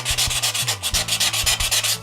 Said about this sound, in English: you can take it away very easily by sanding your paper and your glass at the same time.